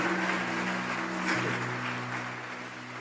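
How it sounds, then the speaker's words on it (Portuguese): A church congregation applauds its volunteers, a broad wash of clapping that fills the clip with steady, dense applause under sustained tonal music. "Salva de palmas dos nossos voluntários, apaixonados"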